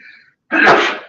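A single loud, close sneeze bursts out after a brief quiet pause and trails off over about half a second, heard alone with no talking.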